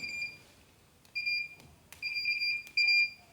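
An electronic card tester giving several short, high, clear beeps, each preceded by a faint click, spaced irregularly and growing longer toward the end, close and loud over a quiet room.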